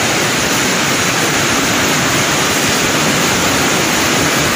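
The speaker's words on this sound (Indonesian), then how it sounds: "melihat lebih dekat ke curugnya seperti apa ya teman-teman" Loud, dense, unbroken roar of an abandoned waterfall where the water plunges into a deep river pool, heard up close with no voices over it.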